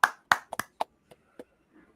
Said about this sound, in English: Clap it up. Give him a hand.